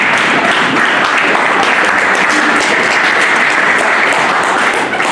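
A church congregation applauds in praise, dense continuous clapping from a large crowd filling the space, loud and steady throughout.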